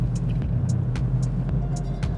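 A Suzuki Ignis GX AGS car engine running under light throttle, a steady low rumble with faint rhythmic ticks, heard close from inside the cabin with no talking.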